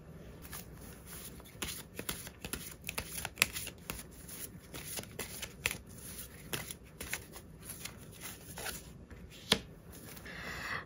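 Tarot cards are shuffled in quick, papery riffles and slaps, a busy irregular run of crisp close taps and flutters with brief pauses, no speech over it.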